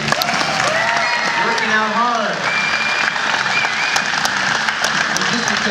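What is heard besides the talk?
audience applause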